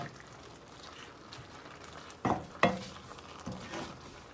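Creamy chicken with spinach and mushrooms is stirred in a pan: soft bubbling simmer with a couple of distinct utensil scrapes and clacks against the pan, close and fairly quiet, no voices.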